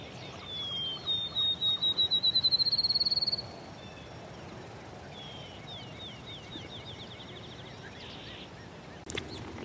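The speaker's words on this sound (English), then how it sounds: "The chorus of field sparrows can be heard throughout the fields." Field sparrow song in an open field, one clear accelerating series of whistled notes rising into a trill, followed by fainter distant songs over a steady outdoor hiss.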